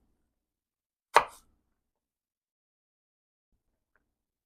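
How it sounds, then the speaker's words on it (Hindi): A single short knife chop through potato on a board while cutting it into small cube-sized chunks for a quick fried potato snack, one brief crisp hit in an otherwise quiet kitchen. "अब इसके मैं चंक्स काटूँगी।"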